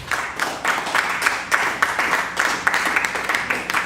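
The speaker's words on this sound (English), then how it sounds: "Give them all a nice round of applause." Audience members at a stage hypnosis show clap in a quick, fairly rhythmic burst of applause, with sharp repeated claps at moderate loudness and no talk over them.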